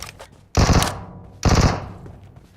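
Two heavy bursts of rapid automatic fire from a vehicle-mounted gun in the video game Metro Royale, each loud, close and trailing off into echo, with no talk over them.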